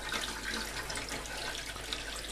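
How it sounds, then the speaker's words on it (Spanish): Water being poured from a detergent tray into a washing machine drum while testing a drain problem, a steady broadband splashing stream that stays loud and continuous throughout. "Utilizando la cubeta del detergente, iremos vertiendo en el interior los 8 litros de agua."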